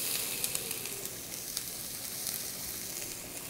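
Chopped onion sizzles in olive oil in a pan for a rice pilaf, a steady, fairly soft hiss with faint crackles, close by and uninterrupted.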